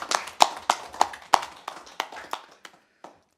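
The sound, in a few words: round of applause at committee meeting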